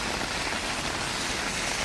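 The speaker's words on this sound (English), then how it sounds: "pretty much raining throughout, full out now" Steady, dense rain pattering on hard surfaces outdoors, a continuous close hiss with no letup and no voices.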